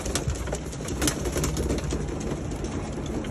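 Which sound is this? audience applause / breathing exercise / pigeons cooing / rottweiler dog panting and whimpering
pigeons cooing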